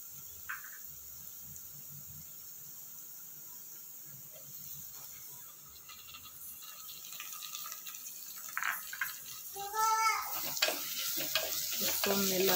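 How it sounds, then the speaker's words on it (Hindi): Chopped tomatoes added to light-brown onions frying in a pan for a Goan prawn chilli, then stirred: a soft steady sizzle rising into louder scraping and crackling stirring toward the end, with no talk. "ऑनियन लाइट ब्राउन हो गया है, ये देखिए। अब हम इसमें टोमेटो डाल देते हैं।"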